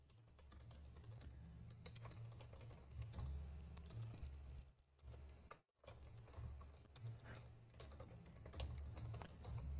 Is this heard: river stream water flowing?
no